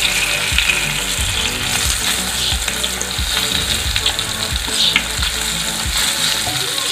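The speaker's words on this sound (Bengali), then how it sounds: "দেখো আমার ক্যাপসিকামগুলো ভালোভাবে ভেজে নিয়েছি" Capsicum pieces frying in a pan, with a steady close sizzle and a rattle of clicks and scrapes from stirring throughout, no voices.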